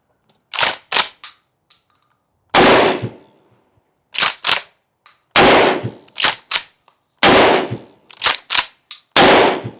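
A 12-gauge Mossberg Maverick 88 shotgun firing at a target for a patterning test: about a dozen loud, sharp blasts close by, some in quick pairs and some followed by a decaying boom, separated by brief silences.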